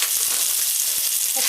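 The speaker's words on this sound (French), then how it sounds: "maintenant j'ai mis la viande à cuire" A burger patty of meat frying in a pan gives a loud, dense, continuous sizzle with a few faint knocks underneath, close up and with no talking.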